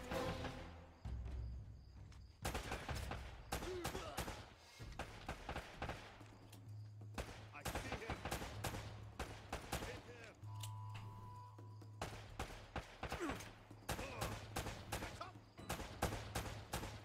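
Repeated gunshots in the action game Uncharted: Drake's Fortune, sharp cracks and bursts spread across the span, some rapid volleys, with a low hum and occasional talk beneath.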